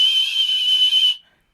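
A person whistles a steady, high, sustained tone meant to mimic whale song, held loud and close for about a second before cutting off into silence.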